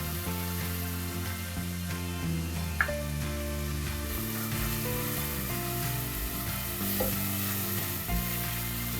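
Chicken seasoned with black pepper and salt fries in a pan, giving a continuous loud sizzle with occasional stirring scrapes, close and steady throughout.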